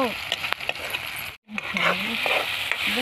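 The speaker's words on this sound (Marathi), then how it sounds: "आता आम्ही याच्यात कांदा आणि टोमॅटो तेलात टाकलेला आहे" Onion and tomato frying in oil while being stirred, a close continuous sizzle with scraping strokes that cuts out for an instant and resumes, while a voice talks intermittently over it.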